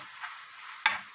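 Aged kimchi and fish cake stir-frying in a pan, with a low steady sizzle and a brief louder burst of frying and stirring near the end.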